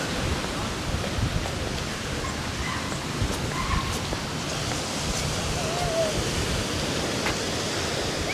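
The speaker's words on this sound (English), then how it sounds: "You can see the waves, the rollers that are coming in are much, much lower, much calmer today." Calm, low ocean waves roll onto a beach in Thailand, making a continuous soft wash with gentle surges and some breeze buffeting the microphone. Faint voices may be underneath.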